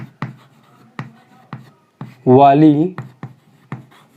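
Writing on a board during a physics lesson, short scratchy strokes at a steady pace of roughly one every half second, close and clear, with a brief spoken word from a man partway through.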